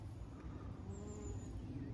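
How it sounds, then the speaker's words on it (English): Bees buzz around a patch of flowering comfrey on an allotment in June, a faint, steady insect drone with a thin high whine passing through against quiet outdoor background. "There are so many bees all over this."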